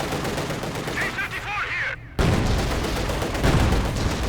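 Munitions cache blowing up under gunfire in the Company of Heroes 2 strategy game, a dense roar of rapid shots and blasts that briefly cuts out near the middle, then returns loud with heavy booms.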